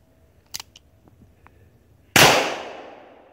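A single loud revolver gunshot goes off with a sharp blast and a long ringing decay, preceded by a few faint clicks and handling noises.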